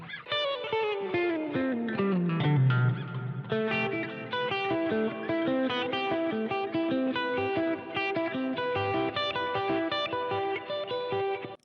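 Distorted electric guitar through a Fender Tone Master Pro plays a descending bend then repeated notes, drenched in spacious reverb, alone without speech.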